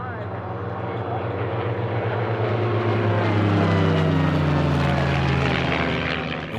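Reno Biplane Class racing planes with air-cooled Lycoming four-cylinder engines and fixed-pitch props drone loudly and steadily, a harmonic buzz swelling slightly as the planes pass, with a voice talking over it.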